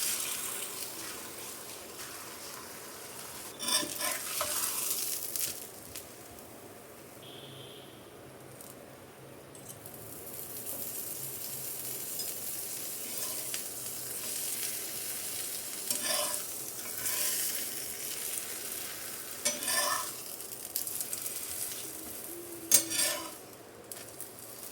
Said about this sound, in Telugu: టూ సైడ్స్ కూడా గోల్డెన్ బ్రౌన్ కలర్ వచ్చే వరకు ఫ్రై చేసేసుకోవాలి